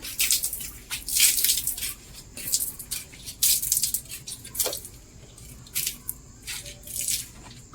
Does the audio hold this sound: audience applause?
no